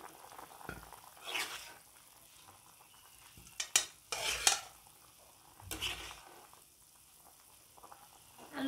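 Boiled potato pieces mashed with a spoon in a pan of thin fish curry broth made with drumsticks. Faint scraping and stirring comes in a few short bursts, with quiet gaps between them and no talk.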